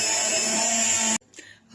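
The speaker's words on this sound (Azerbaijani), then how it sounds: "Blender." A blender whirs loudly while mixing crepe batter of flour and sugar, a steady motor drone that cuts off abruptly, followed by brief faint clatter.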